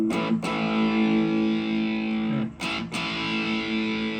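Electric guitar played through a Biyang Metal End distortion pedal, heavily saturated sustained chords ringing out with two brief breaks where the strings are muted and restruck.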